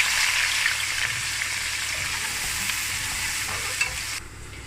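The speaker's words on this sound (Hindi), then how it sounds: "तो चलिए अब उसी ऑयल में हम डाल देंगे प्याज और प्याज को भी फ्राई करेंगे" A steady, loud sizzle of onions frying in hot oil, with faint stirring scrapes, continuing without speech before dropping a little in level near the end.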